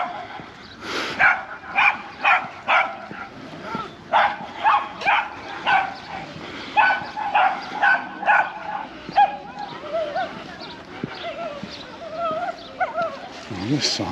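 A dog at the sea in Palmanova, Mallorca, barks excitedly in a rapid, repeated series of yips and woofs, close and loud, with occasional whimpers and a voice underneath.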